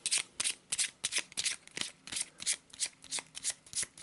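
Cards for the Arkham Horror board game being shuffled by hand at a table: a run of quick, crisp riffling bursts in an uneven rhythm, close and fairly loud, with no talk.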